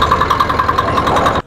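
An engine-driven paddy threshing machine, a three-wheeled portable unit, runs steadily with a loud, continuous mechanical drone and rhythmic pulsing before cutting off abruptly near the end.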